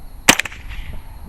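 A single loud, sharp crack from a .50 caliber rifle fired downrange at an outdoor range, followed by a short echoing tail that fades over about a second.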